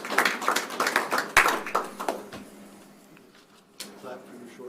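Clapping at a school board meeting in Manchester, a brief burst of hand claps from a small group for about two seconds, then it fades into quiet room sound with a few stray taps and talk.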